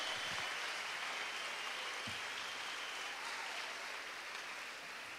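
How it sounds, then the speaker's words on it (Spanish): A church congregation gives an offering of applause, a faint, even wash of many hands clapping that continues without pause for about five seconds, with no clear voices. "Denle una ofrenda de palmas al Cristo de la gloria."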